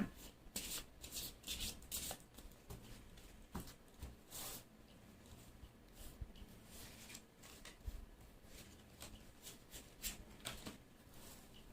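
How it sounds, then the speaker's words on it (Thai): Tarot cards are shuffled, flicked and laid out by hand: irregular bursts of crisp card riffles and slaps, close and fairly soft, separated by brief pauses with no talking. "อาจารย์จะเปิดไพ่แนะนำนะคะ"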